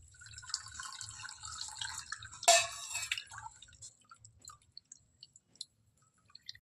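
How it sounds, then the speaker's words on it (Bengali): Cold tap water rinses cooked pasta in a kitchen. A quiet trickle builds to a brief splashing pour, then fades into scattered drips. "একটু কাঁচা জল দিয়ে পাস্তাটা ঠান্ডা করে নিই"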